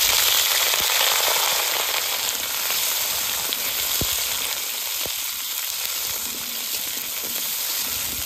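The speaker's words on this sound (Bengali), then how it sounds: "আলু ভাজার জন্য প্রথমে সর্ষের তেল দিয়ে দেবো।" Potatoes frying in mustard oil, a loud, dense hiss of sizzling with scattered sharp crackles and pops, close up and continuous with no voices.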